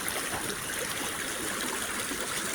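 Steady rushing water fills the clip, a continuous broadband roar like a waterfall or fast stream heard from close by, with no voices.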